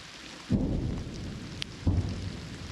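Rain falls in the Serebryansky forest in Ukraine, a steady hiss of drops with two deep, heavy rumbling booms about a second apart.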